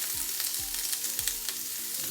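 A vegan burger sizzles in a hot pan beside sautéing vegetables, including peppers, with a steady bright frying crackle and a few soft low thumps as the food is moved or stirred.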